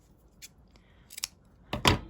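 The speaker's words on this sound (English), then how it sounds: "Sorry about all the banging of my scissors." Scissors knock against a craft table several times, a few sharp clacks spread out and ending in a louder cluster of bangs, with no talking.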